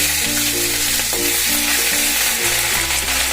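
Cumin seeds and ginger, chili and garlic paste fry loudly in hot oil for paneer bhurji, a dense continuous sizzle close up with a low steady hum beneath it and no speech.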